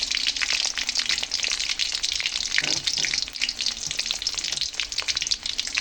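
Whole spices sizzle in hot oil in a pan: bay leaves, dried red chili, cinnamon, garlic, cardamom and cumin for a raw mango pickle, with a dense crackling hiss and irregular stirring scrapes, loud and close, with no voices.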